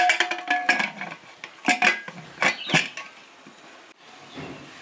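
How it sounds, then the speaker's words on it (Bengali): Metal lid clattering onto a pot of boiling chana dal in a home kitchen, a few sharp clinks and rattles in quick succession, close and moderately loud, then fading to quiet bubbling. "এরপরে ঢাকাটা বন্ধ করে দিচ্ছি ডালটা সিদ্ধ করে দেবো"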